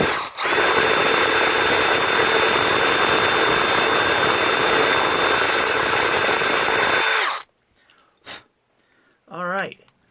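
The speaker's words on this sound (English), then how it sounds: "I'm going to try to keep the drill parallel to the angle of the headstock" A loud, steady power drill whines continuously for several seconds, close by, drilling into a guitar headstock, then stops abruptly, followed by a couple of small clicks and a brief voice.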